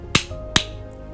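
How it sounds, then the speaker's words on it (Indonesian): Two sharp hand claps ring out about half a second apart, crisp and close, in an otherwise quiet room. "coba tepuk tangan 2 kali"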